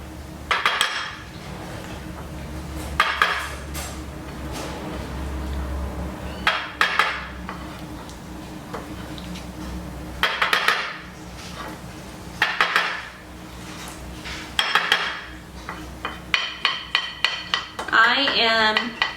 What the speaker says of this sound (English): let's see if I can get this spoon and spoon it into my little bowl